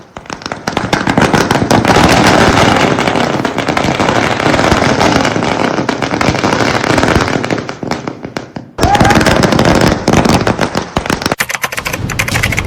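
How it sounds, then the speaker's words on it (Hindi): Dense, continuous crackle of firecrackers and fireworks bursting in a celebration in Sukma, loud rapid pops layered into a sustained roar with a brief lull near the end before the bursts resume. "हिडमा के मारे जाने के बाद पटाखे, आतिशबाजी हो रही थी"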